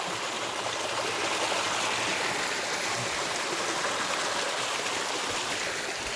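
A small waterfall and stream flowing over mossy rocks on a December hike, a continuous close rushing and splashing wash of water, steady and fairly loud with no talk.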